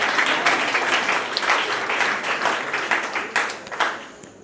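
Guests at a wedding celebration clap together in a lively, steady round of applause that swells and then thins toward the end, with a few voices faintly underneath.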